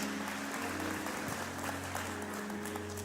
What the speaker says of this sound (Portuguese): Vamos aplaudir você pelo seu esforço?